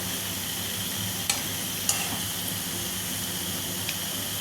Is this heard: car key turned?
no